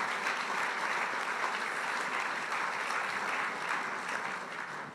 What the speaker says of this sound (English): That deserves a round of applause, I reckon.